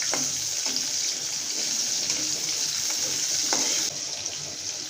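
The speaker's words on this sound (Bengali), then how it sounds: "এটা দিয়ে আমি 2 কোয়া রসুন কুচি একটু নেড়ে করে দিলাম।" Chopped garlic and onion frying in a pan for a kolmi shak and shrimp dish, a steady close sizzle with a few soft stirring knocks, evening out slightly near the end.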